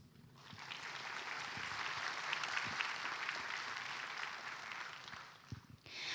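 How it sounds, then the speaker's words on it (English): Audience at a university convocation applauds graduates with steady, dense clapping that holds evenly for several seconds before cutting off, fairly distant and without voices. "Let's give them a round of applause"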